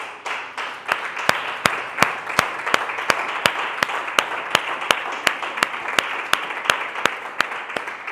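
A church congregation applauds for Christ Jesus with steady, loud clapping and sharp louder claps standing out at a regular, almost rhythmic pace throughout.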